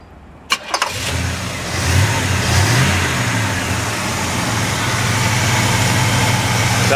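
A 1969 Oldsmobile 442 engine cranks briefly, catches, and settles into a loud, rumbling idle that holds steady for several seconds close by.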